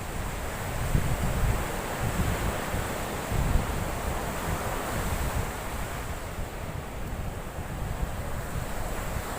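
Waves of the Arabian Sea break and wash on a Goa beach in a steady, continuous surf roar, with wind buffeting the microphone and occasional louder swells.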